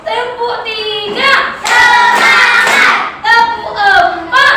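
Third-grade pupils in an Indonesian classroom clap their hands in a counted clapping game, a few sharp claps mixed under loud, lively chanting voices of many children throughout.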